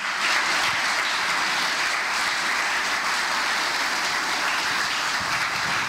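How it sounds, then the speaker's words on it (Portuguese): Wedding guests applaud during the ceremony, a steady, even wash of many hands clapping that holds at a constant level with no voices over it. "Uma salva de palmas para todos que vieram"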